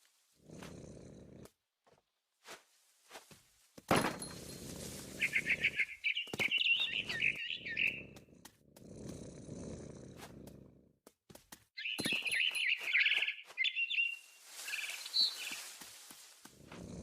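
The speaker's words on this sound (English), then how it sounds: "Then I heard chirping outside my window. It was a barn swallow going back to her nest." Barn swallow chirping in the video game What Remains of Edith Finch, bright twittering calls in two bursts amid scuffling, rustling movement and soft thumps, fairly close and clear.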